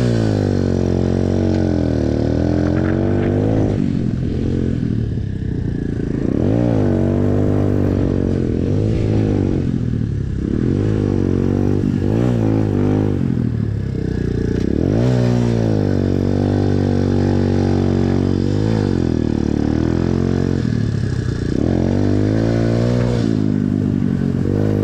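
A Chinese-made Yamaha-branded motorcycle engine drones loudly and continuously while riding, its pitch rising and falling through repeated throttle and gear changes, close and dominant throughout.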